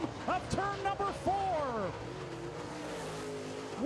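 Late model race cars roar around a dirt oval during a feature race, engines whining and sweeping past under a track announcer's excited commentary, with the car noise running as a steady background under his voice.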